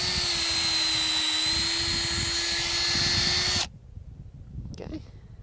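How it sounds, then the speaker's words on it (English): A power drill with a 5/16 inch bit bores into a tree trunk for sap collection, a loud steady whine that runs for several seconds and then cuts off abruptly, leaving quiet outdoor background. "It's a 5/16 inch drill bit."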